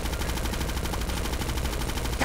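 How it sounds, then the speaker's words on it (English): Rapid automatic gunfire from Grand Theft Auto 5 roleplay, a dense continuous burst of shots that runs loud and unbroken for the whole stretch and ends with a brief distinct crack. "I'll line it up here. I'm shooting."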